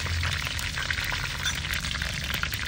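Curry leaves, cumin and mustard seeds fry in hot oil for a village-style bhindi (okra) fry, giving a steady close crackling sizzle with faint scattered pops throughout, no voices.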